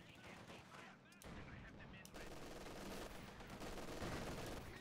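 Machine gun suppressing fire in a Company of Heroes 2 match, distant rattling bursts and battle noise layered under a commentator's voice, fairly faint and dense.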